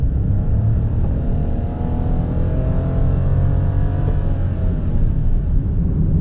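Interior drive of a 2023 Nissan Roox X kei car rolling downhill, a loud steady road and engine rumble with a smooth rising whine, continuous with no talk.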